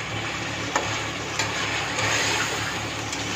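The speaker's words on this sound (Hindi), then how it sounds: "देख रहे हैं अच्छा से ये फ्राई हो रही है" Chicken frying in a pan for a Roza Rose chicken recipe gives a steady, close sizzle, broken by a few sharp clicks from stirring.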